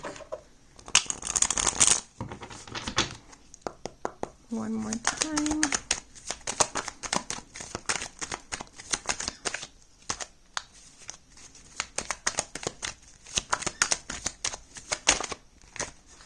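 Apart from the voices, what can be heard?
shuffling a deck of cards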